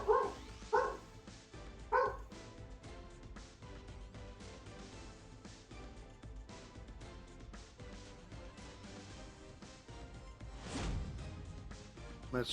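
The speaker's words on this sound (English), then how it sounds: "new commentator Odin barking" A few sharp, close dog barks open the clip in quick succession, then give way to a quieter, busy background with no further barking.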